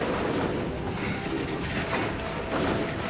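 A moving train on a night film set rumbles and rattles continuously at close range, loud and dense, with no one speaking over it.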